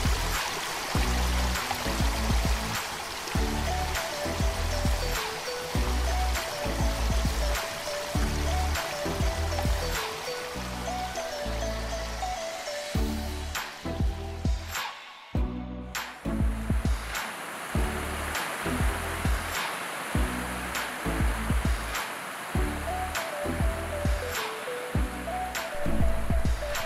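Waterfall and flowing stream in rural Cambodia, a steady dense wash of falling water with rapid rhythmic pulsing, close and fairly quiet, briefly dipping midway before resuming, without talk.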